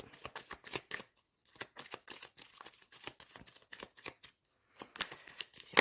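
Tarot cards are shuffled by hand in quick, rhythmic riffles, a close series of crisp flapping bursts with a brief pause partway through.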